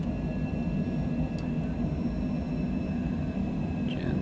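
Airliner engines in Microsoft Flight Simulator 2020 hold a steady, loud, low rumbling drone with a faint high whine running through it.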